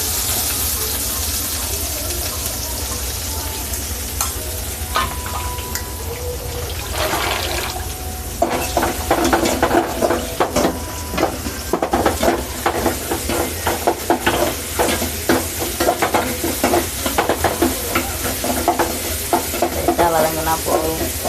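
Onions, curry leaves, cumin and dried red chillies sautéing in a pan for a Tamil garlic kuzhambu, a steady sizzle with stirring and scraping that grows louder and busier partway through, with no talk over it.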